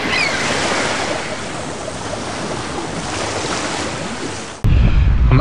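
Ocean surf rolls steadily onto Beer Barrel Beach on Tasmania's east coast, a loud continuous wash of breaking waves with wind buffeting the microphone, ending in a sudden burst of close wind rumble.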